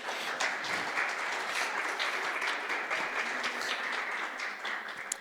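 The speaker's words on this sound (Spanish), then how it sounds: "sí, el aplauso" Audience applause at a panel session on artificial intelligence and emerging technologies, a steady wash of clapping from a moderate crowd, fairly quiet and distant, holding evenly throughout.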